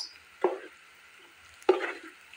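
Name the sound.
spices frying in a pan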